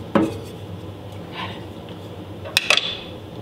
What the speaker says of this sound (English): And I'm about to cover it up with the top